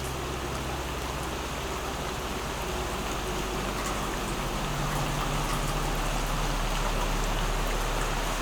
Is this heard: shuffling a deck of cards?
no